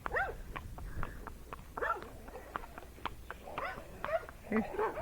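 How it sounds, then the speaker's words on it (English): Several dogs bark and yelp excitedly in quick, irregular bursts, some high-pitched and whining, with a steady background hum throughout. "So now we're going to get to be right by the barking dogs."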